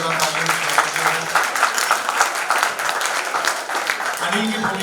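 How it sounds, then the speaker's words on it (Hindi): A theatre audience at a stage play breaks into dense, sustained applause, loud and continuous, with a voice speaking over the clapping near the start and again at the end. "जोरदार तालियां।"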